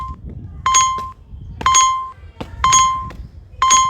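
A bright electronic chime from a navigation app rings four times at a steady, roughly one-second rhythm, each tone short and clear over faint background noise.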